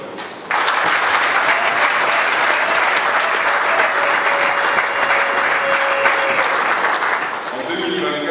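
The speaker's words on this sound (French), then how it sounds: "J'aimerais vous applaudir" An audience at a New Year's greetings ceremony at a hotel breaks into loud, sustained applause that starts abruptly and continues evenly, with faint voices beneath.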